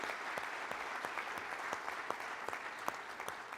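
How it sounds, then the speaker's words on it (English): Steady applause from a seated audience at a travel industry event, many hands clapping in a dense, even patter at moderate distance, with no voices over it. "how about joining me in a round of applause to welcome the students and thank the sponsors"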